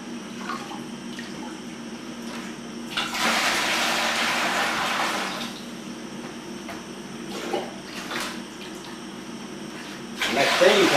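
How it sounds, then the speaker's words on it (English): Cold water pouring into a container outdoors for a homemade moonshine still: bursts of loud rushing, splashing water separated by quieter pauses with drips, ending with another strong pour. "So now we need to fill this container full of cold water"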